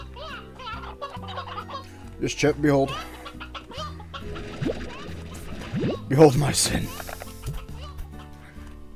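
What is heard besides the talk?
chickens clucking in the video game Slime Rancher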